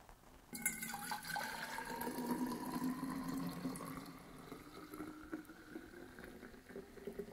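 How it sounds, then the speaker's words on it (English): Thick yogurt mixture poured from a container into a thermos, a continuous glugging, sloshing liquid pour at close range that starts abruptly and runs steadily without speech. "I'm just going to pour my yogurt into my thermos"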